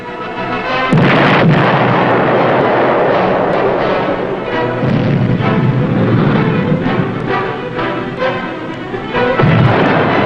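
Depth charge explosions against a submarine in wartime, a heavy boom opening a long, loud rumbling roar that stays dense and continuous, with another deep thud near the end.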